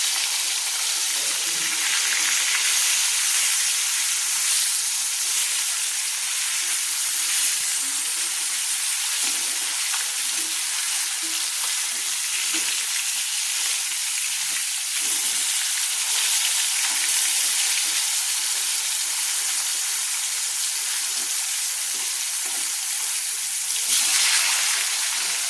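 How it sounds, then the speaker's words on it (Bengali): Pieces of rui fish fry in hot oil in a pan, giving a steady, close, hissing sizzle that runs unbroken for the whole stretch and swells briefly near the end, with no talking. "মাছগুলোকে আমি তেলটা নেড়ে চেড়ে আমি এইভাবে কিন্তু ভেজে নিচ্ছি।"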